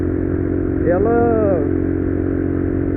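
A Honda Bros 190 motorcycle fitted with a Pro Tork PowerCore 3 exhaust idles with a steady, close rumble, rising briefly in a short rev before settling back.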